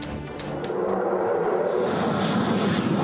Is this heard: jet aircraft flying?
yes